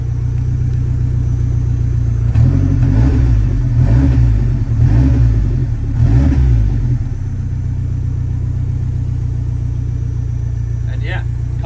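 A 1987 Saab 900 Turbo engine idling with a close, steady low rumble, briefly swelling into a louder rough throb for a few seconds before settling back, while someone talks over it.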